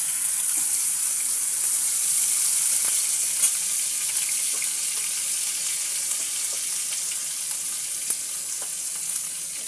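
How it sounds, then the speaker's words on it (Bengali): Onion paste frying in hot oil in a wok, a loud continuous hiss and crackle with occasional clicks of stirring throughout. "তেলের মধ্যে দিয়ে দেব পেঁয়াজ বাটা।"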